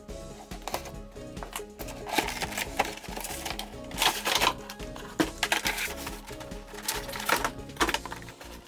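Packing tape being peeled and pulled off the top of a toy figure's cardboard box, a close, quiet run of rasping, crackling rips and rustles.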